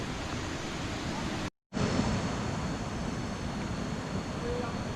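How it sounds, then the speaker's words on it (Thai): Water flows steadily at Khlong Phai Bu waterfall, a broad even rush of moderate loudness from nearby, broken once by a brief dropout. "นี่ก็เป็นบรรยากาศภายในน้ำตกคลองไผ่บูนะครับ"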